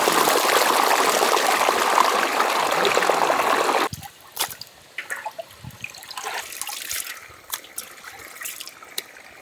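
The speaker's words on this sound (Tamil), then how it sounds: "தண்ணியை வடிச்சிட்டு போடு" Water pours out of a cooking pot steadily for a few seconds, then stops, leaving scattered drips and small clinks of the pot being handled outdoors in a village.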